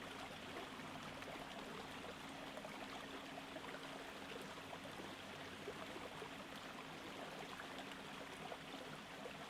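A river stream flows steadily in a continuous, even rush of water, a dense broadband wash that holds constant throughout with no voices.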